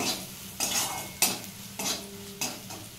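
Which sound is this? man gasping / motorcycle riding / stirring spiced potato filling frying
stirring spiced potato filling frying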